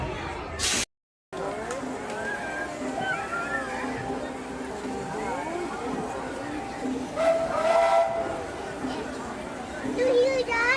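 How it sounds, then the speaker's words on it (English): A steam train whistle at a Disney park sounds repeatedly amid crowd chatter and a talking voice nearby, with hissing steam and a brief silent gap early on. "It's a choo-choo."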